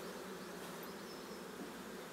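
Honeybees buzz steadily during a beehive inspection, a close, continuous droning hum with no pauses and no talking.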